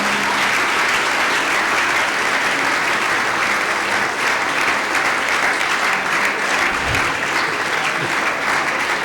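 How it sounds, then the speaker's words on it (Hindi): Continuous applause from a church audience greeting a guest keeps up for several seconds, dense and even, with a brief low thump partway through. "तालियां बजती रहनी चाहिए,"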